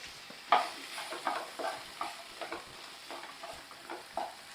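Ingredients with a quarter teaspoon of salt being sautéed in a pan for a Hogenakkal jilebi fish curry, with scattered scrapes and clinks of a spoon stirring over a soft, steady background hiss.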